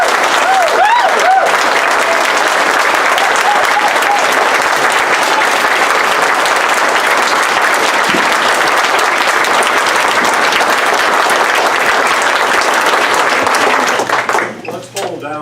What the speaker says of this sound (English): Let's pull down the clapping so we can get through some more.